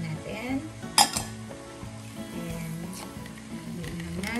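A utensil stirs coffee and vanilla essence for tiramisu, with clinks and scraping against the bowl and one sharp knock near the start, close and fairly quiet.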